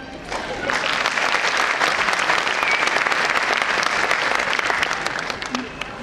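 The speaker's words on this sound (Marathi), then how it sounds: "पालकांची सगळ्यांची टाळ्या येत नाही आहे." Parents applaud at a primary and secondary school event, a dense, steady round of clapping from a large crowd that holds for several seconds before tapering off at the end.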